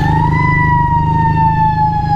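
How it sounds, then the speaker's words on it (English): A fire truck siren wails steadily, its tone sliding slowly, heard over a loud low rumble from a nearby idling Honda VF500F motorcycle engine. "Oh, that's a fire truck."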